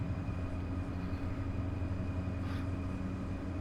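A retro high-speed IC1 train runs on the Kassel–Würzburg line in Train Sim World 3, a steady low rumble and hum of the moving train heard from inside, continuous and even throughout.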